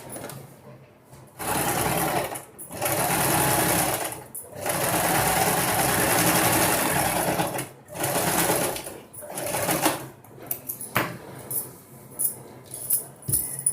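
A sewing machine stitches a double frill designer blouse along its canvas lining in several sustained runs separated by brief pauses, loud and close, followed by scattered handling clicks near the end.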